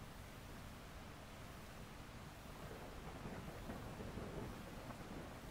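Steady rain hisses with low thunder rumbling beneath it on the Skye shore, a continuous soft wash of noise with a slight swell in the last seconds.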